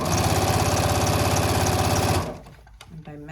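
A sewing machine runs steadily, stitching through fleece with a fast, even mechanical chatter for about two seconds before stopping abruptly, leaving quiet room sound.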